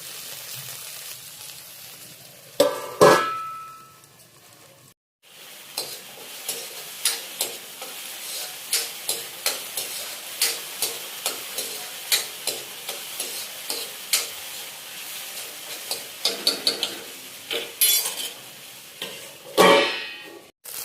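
Okra curry cooks and sizzles in a covered pan, a soft continuous fry broken by a steady run of light rhythmic clicks and taps, with louder clattering bursts near the start and the end.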